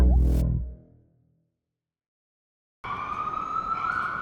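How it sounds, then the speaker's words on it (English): After a loud, brief burst and a stretch of silence, an ambulance siren starts abruptly with a steady, moderately loud wail that holds to the end. "That ambulance has come to get me."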